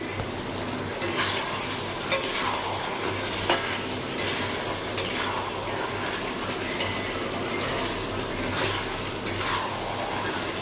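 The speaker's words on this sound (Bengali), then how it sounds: "এটা আরও ভালো করে কষিয়ে নেব আর এখন আমি এর মধ্যে আলুটা দিয়ে দেবো" Chicken with fried potatoes being stir-fried dry in a pan, a dense, constant sizzle broken by periodic scraping strokes of a spatula, close up with no talking.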